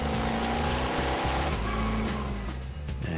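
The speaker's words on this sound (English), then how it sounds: "the noise is like somebody screaming at you" The Batmobile's engine roars loudly in a sustained, harsh growl with pulsing low throb, close and unbroken over a few seconds.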